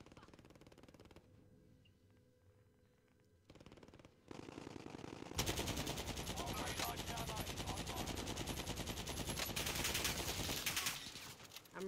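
Rapid automatic gunfire in a video game shooter, loud and sustained bursts that build into a dense, continuous fusillade after a quieter opening stretch.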